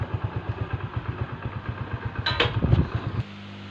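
Parked motorcycle at a home idles nearby with a steady, rhythmic thumping putter that swells slightly with some clatter before cutting to quieter hum near the end.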